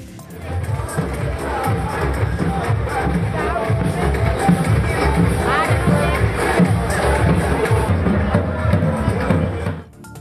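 Devotees at a Hanuman Jayanti celebration in Karnataka chant Rama's name and shout cheers, a loud continuous roar of massed voices with dance music underneath, sustained throughout before dropping off abruptly at the end.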